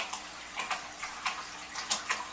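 Water trickling into a fish tank as it is refilled after cleaning, faint and close, with soft ticking drips and small splashy bursts arriving at an uneven pace.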